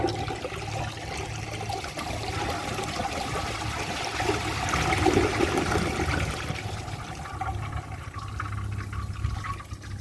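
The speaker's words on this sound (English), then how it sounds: "So let's give this a flush and do the tests." A 2003 Mancesa Acuacer toilet flushes, a steady rushing and gurgling of water that swells midway, then eases into a softer trickle as the tank refills.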